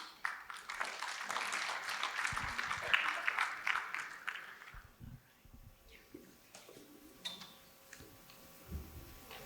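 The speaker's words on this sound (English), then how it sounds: "one big round of applause to Naveen and Rupa" Audience applause at a charity gala in Chicago, a broad wash of clapping that fills the first half and then thins into scattered claps and room noise.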